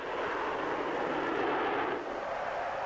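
Jet engines of a Valiant, a British four-jet V-bomber, roar steadily and loudly with a broad, continuous rushing sound, with no voices.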